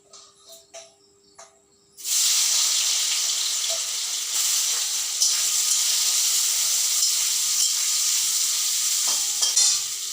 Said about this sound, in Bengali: তাই এখন সয়াবিন ভাজি করি, লবণ আর হলুদ দিয়ে মেখে নিয়েছি। ওদিকে তেল গরম হয়ে গেছে।